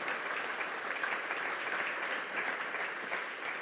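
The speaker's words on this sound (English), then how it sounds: "a big hand of applause to the panel" Audience applauding a panel at a research governance forum plenary, even sustained clapping at moderate distance with no pause.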